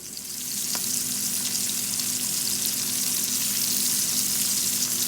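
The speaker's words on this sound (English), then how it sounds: "I've got some avocado oil in the pan, heating up right now." Shrimp frying in avocado oil in a pan with minced garlic, giving a steady, loud, continuous sizzle and crackle close by, with no talking.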